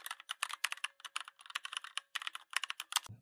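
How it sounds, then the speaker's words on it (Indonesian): A prompt is typed on a computer keyboard, a rapid, uneven run of crisp, close key clicks in short clusters, alone with no talking. "Kita akan ketikkan prompt-nya."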